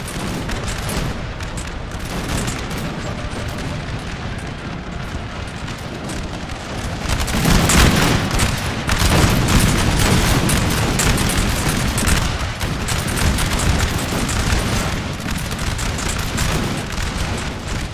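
Musket volleys crackle in a Napoleon: Total War battle, a loud, dense, continuous mass of gunfire and booms that swells midway and keeps rolling for the whole stretch, with no speech.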